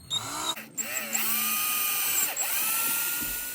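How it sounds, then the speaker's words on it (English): A small power drill whines at high pitch in short bursts, speeding up and slowing as it bites into a wooden lipless crankbait lure body to make eye holes, close and fairly loud. "I'm gonna drill these out real quick"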